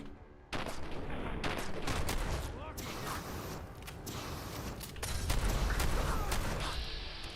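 Gunfire in Fallout 4 crackles and booms through a firefight, repeated shots and bursts over a busy, loud mix of game action, with voices mixed in.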